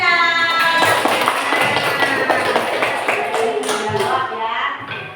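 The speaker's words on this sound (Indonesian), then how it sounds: "Berikan aplaus buat Maida." Classmates applaud a student in a classroom with a brisk, dense patter of hand claps that slowly tapers off, overlapped by voices.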